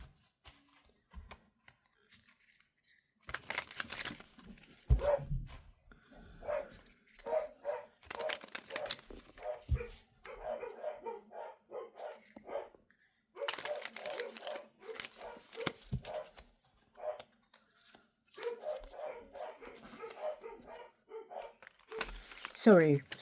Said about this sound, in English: Sorry about my dogs going a little bit crazy.